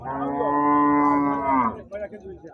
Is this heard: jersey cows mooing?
yes